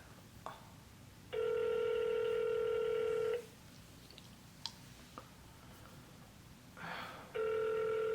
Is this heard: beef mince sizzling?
no